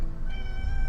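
A short, sharp meow from Despy, a pet cat, rises abruptly and holds for under a second, close and clear over a low background hum.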